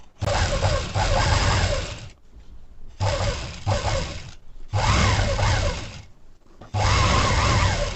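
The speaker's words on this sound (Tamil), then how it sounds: "அப்படியே ஸ்ட்ரைட் பண்ணி நீங்கள் அப்படியே தையல் போட்டே வரணும்" A sewing machine stitching a blouse hem, loud and close, running in four bursts of rapid whirring stitches of one to two seconds each, broken by short quiet gaps.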